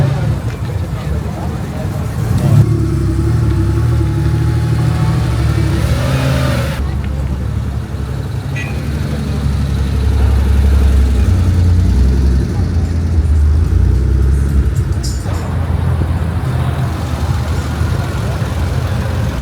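Porsches and other cars rolling out of a morning car meet, engines rumbling and revving as vehicles pass nearby, with crowd chatter and talk running underneath throughout.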